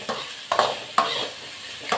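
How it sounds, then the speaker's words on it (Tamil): Cauliflower pieces sautéed in ghee in a pan, with a steady sizzle broken by several stirring scrapes at an even pace, close and moderately loud with no talking. "இது நெய்யில் வதக்கும் போது அவ்வளோ வாசனையாக இருக்குது."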